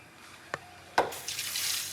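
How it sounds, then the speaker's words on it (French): A household tap being opened, with two sharp clicks of the handle followed by water rushing out steadily, close by and growing louder. "Ouvre le robinet pour voir."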